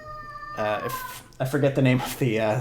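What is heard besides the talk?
cat meowing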